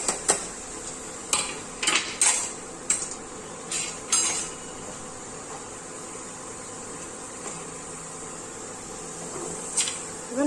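Carrot sautéing in butter in a pan, with a few sharp clinks and scrapes of a spoon stirring against the pan over a faint steady sizzle.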